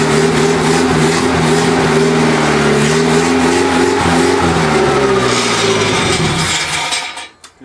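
A monster trike's engine runs steadily and loudly with the choke off as it warms up, holding a rough mid-pitched drone before sputtering out and dying near the end.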